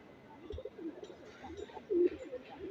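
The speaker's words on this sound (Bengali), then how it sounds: "আরেকটা সুন্দর কবুতর, একটা জংলার সবজি কবুতর" A wild green pigeon gives soft, low coos in short repeated phrases, close by and fairly quiet, with a louder throaty burst near the end.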